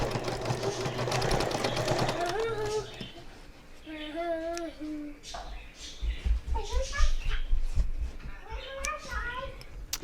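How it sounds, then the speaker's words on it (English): A sewing machine stitches a handbag seam in short bursts of rapid mechanical whirring, close by, while someone talks and chirps in the background. "I like to turn it over and sew from the other side too"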